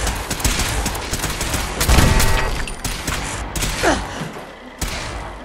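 A rapid volley of gunshots in Fallout 4, a dense cluster of sharp cracks with thumping impacts, then scattered single shots and a final loud report near the end.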